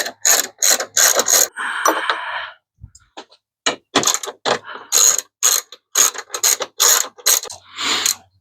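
A ratchet clicks in quick bursts while loosening 10 mm bolts on the intake of a 2024 Honda Civic Si, close and loud, with several separate runs of ratcheting and short gaps between them.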